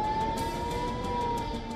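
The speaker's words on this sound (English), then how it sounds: "Blaring sirens" Air raid siren blaring over the port city of Haifa, a loud sustained steady wail that holds a single tone throughout.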